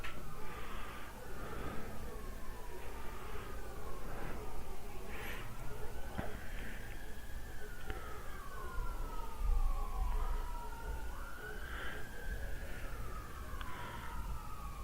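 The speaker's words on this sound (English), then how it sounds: "For the audience at home, we're hearing sirens" Several emergency sirens wail at once, rising and falling in overlapping sweeps, fairly close, over a steady rumble of traffic.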